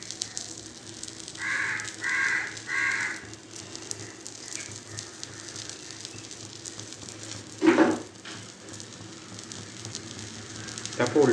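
Food fries in oil in a pan with a low, steady hiss that runs the whole time, while crows caw loudly in the background several times.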